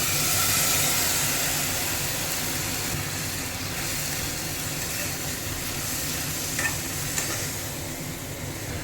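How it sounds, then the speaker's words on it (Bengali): Paneer frying in a pan with spices, salt and a little poppy-seed paste, a steady close sizzle with stirring scrapes running throughout at an even level. "মশলাটাও ভাজা হচ্ছে ওর সঙ্গে পনিরটাও ভাজা হচ্ছে"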